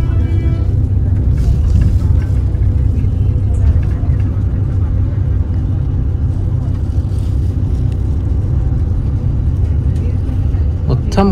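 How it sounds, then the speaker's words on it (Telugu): A TSRTC Rajdhani air-conditioned bus at Khammam bus station rumbles with a loud, steady engine drone. Voices come through faintly over the noise. "ఏసీ బస్ ఇది."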